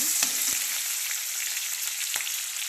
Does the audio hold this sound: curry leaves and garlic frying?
yes